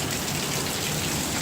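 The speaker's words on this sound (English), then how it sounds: "It's raining pretty hard." Heavy rain pours down outdoors, a dense, steady, loud hiss of drops striking surfaces and filling a backyard pool, constant throughout with no voices.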